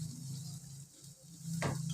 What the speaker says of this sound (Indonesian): Kemudian lanjut digoreng.